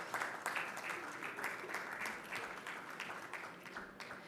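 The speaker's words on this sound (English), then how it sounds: "A round of applause" Audience applause for expert presenters at a 2019 economic zone expo, steady dense clapping across the whole clip, filling the room at even loudness and tapering slightly near the end.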